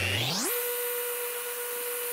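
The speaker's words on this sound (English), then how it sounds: "you can then switch over to the random orbital mode and then more delicately do your final sand" Festool ROTEX RO 150 multi-mode sander running on wood in random orbital mode, spinning up fast over half a second to a steady loud whine with broadband sanding hiss, continuous and close.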